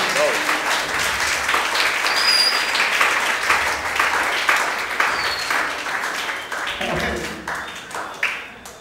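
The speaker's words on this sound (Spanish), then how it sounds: "Denle un aplauso fuerte a Cristo" A church congregation applauds steadily for several seconds during an evangelism service, the clapping thinning out toward the end with a few voices mixed in.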